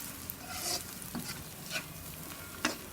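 Dried chillies dry-roasting in a pan for a Burmese-style pork curry, with a faint, quiet rustling and a few light scrapes of stirring heard up close.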